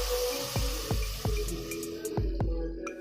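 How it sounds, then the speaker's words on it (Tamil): Water poured into a pan of fried vegetables for a vegetable kurma, giving a run of distinct drips and splashes at a slow, uneven rhythm over a steady low background hum, close and moderately loud with no talking. "இப்போ கொஞ்சமாக தண்ணி ஊற்றுங்க."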